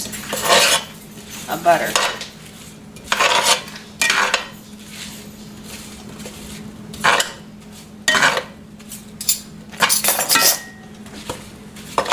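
Apples with brown sugar, white sugar and salt mixed in a pan for fried apples, a utensil clanking and scraping against the metal in bursts of several strokes, close and fairly loud, with brief talking.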